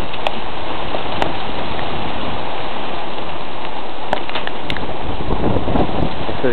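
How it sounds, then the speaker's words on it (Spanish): Heavy hail pouring down in Lancaster on Christmas Day, a continuous loud rushing patter with a few sharp clicks of stones striking nearby surfaces. "Está cayendo mucho granizo."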